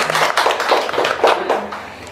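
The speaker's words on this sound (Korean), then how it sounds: "우리 선생님도 박수." A small group clapping for their teacher in a classroom, a short burst of loose, uneven handclaps close by with no voices over it.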